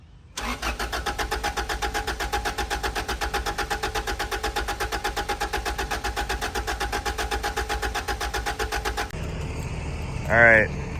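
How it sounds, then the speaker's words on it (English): A $700 Acura Integra undergoing a rebuild cranks steadily for about nine seconds with a fast, even rhythmic churn, loud and close, but never fires. The starter then stops, leaving a hiss and a brief rising whine. "I'm just gonna see if it starts"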